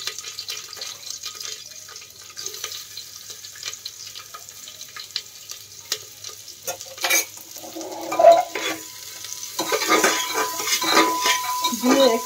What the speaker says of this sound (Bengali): দিয়ে একটু ভালো করে হাই ফ্লেমে নাড়িয়ে নিতে হবে।